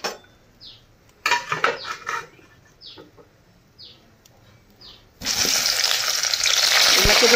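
Besan-coated taro pieces go into hot oil: scattered metal clinks and pan clatter over a faint crackle, then a loud, dense sizzle and bubbling erupts and holds steady for the last couple of seconds.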